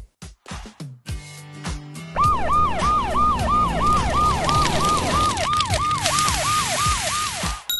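A few clicks and button beeps, then a Paw Patrol toy fire truck siren wails in a fast, repeating up-and-down electronic pattern, loud and close.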